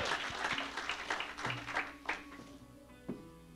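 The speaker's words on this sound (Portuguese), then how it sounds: "Um aplauso ao Senhor da glória." Church congregation claps for the Lord during a worship service, a busy spread of hand claps with a sustained tonal hum beneath, thinning out over the last second.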